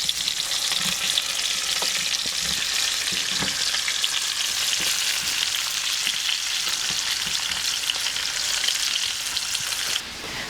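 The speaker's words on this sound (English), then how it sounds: "Into the pan, I'm going to add our apples and onions." Apples and onions frying in a pan alongside pork tenderloin, a dense steady sizzle with occasional soft stirring taps, close up and continuous, dropping slightly at the very end, no talking.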